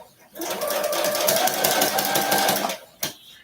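A sewing machine stitches fabric in one steady, close burst of a few seconds, its rapid whirring rattle stopping abruptly, followed by a single sharp click.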